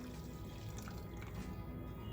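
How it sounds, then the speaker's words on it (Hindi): Plain water pours into a cooking pot holding millet flour, a steady liquid splashing and dripping at close range, continuous and fairly quiet throughout. "अब इसमें हम डालने वाले हैं पानी।"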